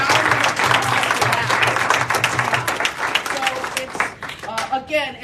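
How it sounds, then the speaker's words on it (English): Rally crowd in support of East Phillips applauding loudly, dense clapping with cheers and voices throughout that tapers slightly toward the end. "let's give a round of applause for"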